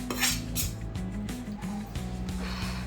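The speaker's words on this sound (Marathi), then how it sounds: "जे दिसेल घासायचं असेल ते असं बेसिनमध्ये टाकून द्यायचं. मी याच कढईत आता परत लावणार आहे." A kadhai and other metal utensils clink and clatter in a home kitchen during prawn biryani preparation, with a few scattered knocks over a low steady background hum.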